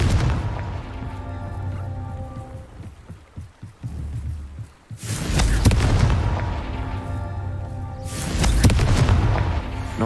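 Confringo blasting curse explosions in Hogwarts Legacy, two loud booming blasts spaced several seconds apart, each bursting suddenly and rumbling away over a low background.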